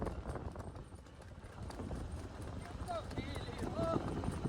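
A ridden mare's hooves clip-clop steadily at a slowed pace on open ground, fairly faint, with people talking and giving riding instructions over the hoofbeats.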